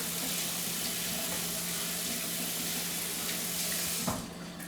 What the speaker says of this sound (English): So we're going to go ahead and rinse our hands briefly.